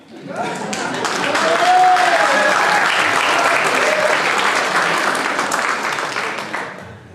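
An audience at an evening symposium breaks into sustained applause that swells quickly and holds as a thick, even wash of clapping for several seconds, with a voice briefly audible early on before it fades out.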